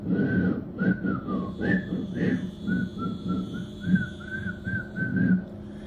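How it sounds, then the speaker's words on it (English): A person whistles a bright, wavering tune in short phrases over a steady low background rumble. "You can whistle while you work"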